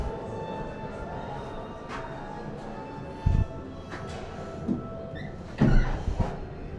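On a European train, doors slide and thump with a few clunks and bangs over a steady rail hum, the loudest knocks near the end, with no talking.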